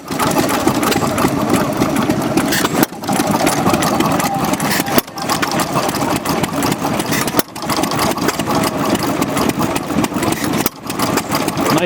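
A small air-cooled engine idles steadily and loudly up close at an engine show in snow, its chugging even throughout, broken by a few brief dips.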